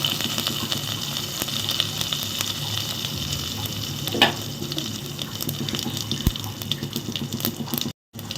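Oil sizzles and crackles steadily throughout as spices and curry leaves are tempered for tomato rasam, with a few brief pops and clinks, and no voices.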